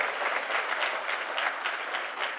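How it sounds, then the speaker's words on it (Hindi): Audience applause at a motivational talk, a dense burst of many hands clapping evenly for a couple of seconds, moderately loud with no talking. "जोरदार तालियां हो जाए इनके लिए"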